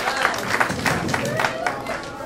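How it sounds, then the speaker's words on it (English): A comedy club audience in El Paso breaks into sustained applause, a dense, steady patter of many hands clapping at moderate volume with no one talking over it. "Give yourselves a round of applause for that."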